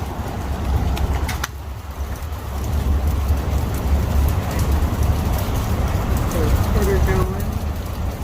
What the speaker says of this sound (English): So many noises coming from everywhere because of the rain.